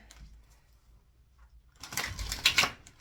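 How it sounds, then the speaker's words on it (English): A brief burst of riffling, clattering tarot card shuffling, close and fairly loud, after a quiet pause. "Got a good shuffle of that one."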